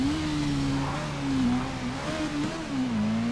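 A small motorbike engine revs in GTA V, a steady, close drone whose pitch rises and falls in gentle waves as the throttle shifts, alone without talk.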